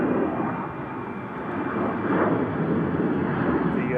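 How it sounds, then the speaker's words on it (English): A Ryanair jet departs Manchester Airport for Brussels Charleroi, its engines giving a steady, loud broadband roar that swells slightly toward the end and runs on without pause. "The Ryanair to Brussels Charleroi is going now, flight 3222"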